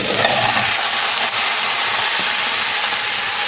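Steady, loud sizzling of a flourless cabbage pie frying in an oiled pan, second side down, a continuous crackling hiss with no voices.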